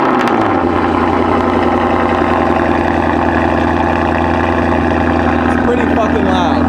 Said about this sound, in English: let's listen to this thing cold start